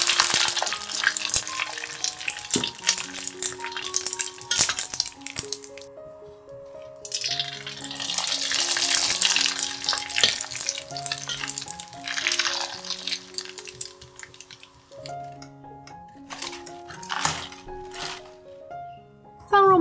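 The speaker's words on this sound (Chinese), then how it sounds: "现在倒入适量的油，待油热后放入腐竹，炸至起泡后捞起来备用。" Tofu skin deep-frying in hot oil, with a bubbling, crackling sizzle that swells and fades in bursts beneath a melodic background of plucked music.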